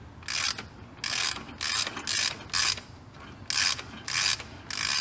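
A ratcheting puller is tightened to draw a stuck injector from the cylinder head of a Cummins 12 valve diesel, producing repeated bursts of close, loud ratchet clicking in an even back-and-forth rhythm.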